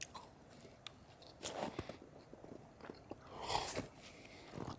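Someone bites into a blueberry fritter and chews, giving two loud crunchy bites followed by soft, close, wet chewing and small crackles in a quiet room.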